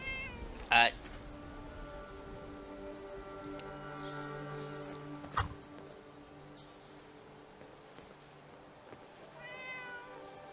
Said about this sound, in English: Hey, the cat!